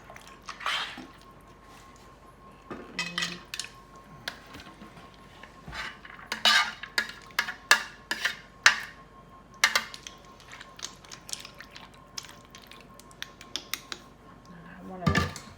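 Macaroni and cheese with Alfredo sauce being stirred in a greased crockpot, giving irregular wet squishing and utensil clinks against the ceramic pot, fairly close and moderately loud, with brief bursts of sharper scraping.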